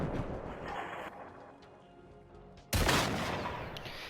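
Gunfire aimed at a Harvester robot's leg in Generation Zero. A sustained stretch of firing fades to quieter rumbling, and then a sudden loud blast or burst of shots cuts in near the end.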